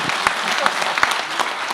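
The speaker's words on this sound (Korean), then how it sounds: "박수 한번 보내주세요" Brief burst of applause from a talk-concert audience, a room of hands clapping with some distinct individual claps standing out, moderately loud and short.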